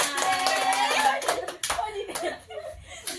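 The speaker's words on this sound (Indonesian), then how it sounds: "Oke, tepuk tangan buat kita semua." A group of participants in a classroom learning activity claps their hands after a game, with short bursts of clapping mixed with laughter and talking that fades in and out.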